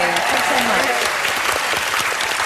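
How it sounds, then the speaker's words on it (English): A studio audience on a live televised singing competition claps loudly and steadily, a dense wash of applause with some background voices mixed in. "But a massive round of applause for these guys."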